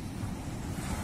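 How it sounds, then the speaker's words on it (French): Ocean waves washing steadily onto the shore, a close, continuous rush of surf with some wind noise and no talking. "je fais exprès dans cette séquence de pas mettre de musique pour que tu profites bien du son des vagues"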